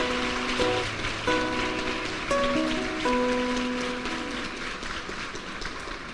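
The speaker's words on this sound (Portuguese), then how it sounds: "Então aplauda a palavra de Deus" A church congregation applauds the word of God, a broad wash of clapping that runs steadily throughout while sustained keyboard chords play over it.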